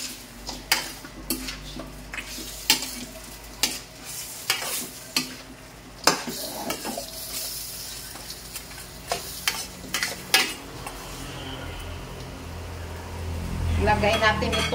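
Native chicken sautéing in a pot, with a steady sizzle beneath repeated sharp scrapes and clanks of a utensil stirring against the pot, growing a bit louder toward the end.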